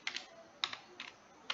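Keys clatter on a computer keyboard as text is typed, in a few quick bursts of clicks separated by short pauses, close and fairly quiet.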